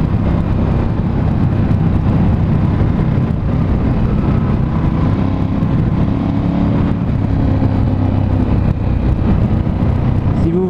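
A Ducati Scrambler 1100 Special motorcycle engine and exhaust on the road, a loud continuous low rumble that swells and eases with throttle, heard from close with heavy wind noise throughout.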